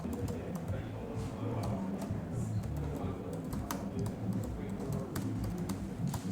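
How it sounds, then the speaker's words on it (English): Typing on a MacBook keyboard to enter text into notes on a mirrored iPad: faint, steady stream of soft key clicks, close but low in level over a constant background hum, with no one speaking. "I can type here with my MacBook keyboard."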